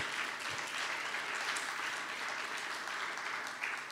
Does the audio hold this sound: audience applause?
yes